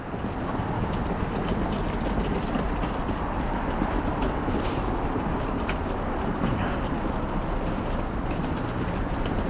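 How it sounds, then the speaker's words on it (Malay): Inside an MRT subway train in South Korea, a constant broadband rumble of wheels and rushing air fills the carriage, with faint rattles and clicks over a steady, loud roar. "Jadi kita naik MRT yang paling awal lah ni."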